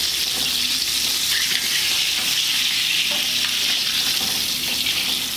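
Chicken pieces for crispy geprek fry in hot oil with a loud, continuous, close sizzle and bubbling hiss that stays steady throughout, with no talking over it.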